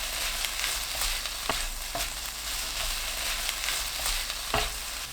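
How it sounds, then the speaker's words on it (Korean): Sliced onion stir-fried in a pan with green Cheongyang chilies, red chilies and perilla seed powder gives a steady close sizzle, broken by a few sharp scrapes and taps of a utensil stirring. "청양고추, 홍고추, 들깨가루 한 큰술 넣고 30초 볶습니다"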